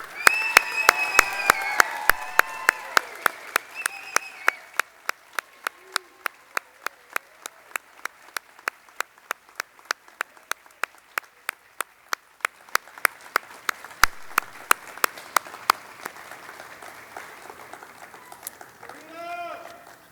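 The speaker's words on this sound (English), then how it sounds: "let us give a wonderful round of applause to these students" Audience applause at a nursing honor society ceremony, opening as dense clapping that thins into a slow, sparse run of individual claps with brief talk mixed in, then a short swell near the end.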